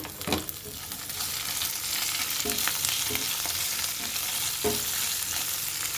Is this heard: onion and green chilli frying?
yes